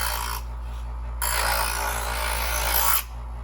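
Presto 08810 professional electric knife sharpener grinding a knife blade: a steady close whirring rasp that swells for a couple of seconds, drops back, then cuts off under the motor hum.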